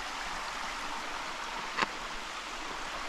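Creek water flowing steadily out from underground after rain on Mt Halifax, a continuous broadband rush of stream noise at moderate level, with one brief sharp knock near the end.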